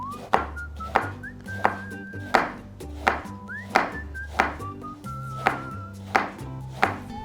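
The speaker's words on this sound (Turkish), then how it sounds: "Onun haricinde patlıcanı tamamen soydum. Şimdi incecik dilimler yapıyorum." A knife finely slices peeled eggplant on a cutting board, about ten evenly spaced thunks with faint clinks in between.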